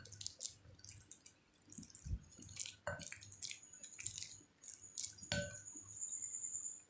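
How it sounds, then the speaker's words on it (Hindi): Ripe banana being mashed in a bowl for cupcake or pancake batter, giving soft wet squelches and clicks in irregular bursts, close and fairly quiet, with a brief metallic tap near the end. "अच्छी तरीके से इसको मैश कर लीजिए"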